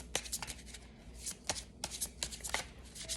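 Tarot cards riffle and shuffle in quick crisp bursts, close and quiet, with brief pauses between handfuls and no voices.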